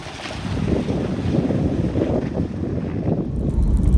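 A 4WD vehicle driving straight through a shallow water crossing with a firm base on an outback track toward Birdsville, heard as continuous rushing, splashing water and rumble mixed with wind noise, close and fairly loud.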